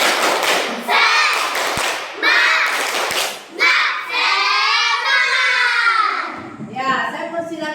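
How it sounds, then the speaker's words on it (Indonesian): Elementary classroom pupils doing the tepuk semangat clapping chant, sharp rhythmic claps mixed with loud children's chanting voices, shouted in bursts across several seconds, close and lively. "Tepuk semangat."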